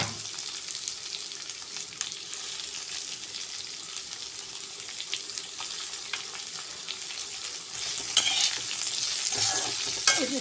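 Chopped onions and curry leaves fry in hot oil for a potato and green pea kurma. A steady, moderate sizzle runs throughout with stirring, and it grows a little louder near the end.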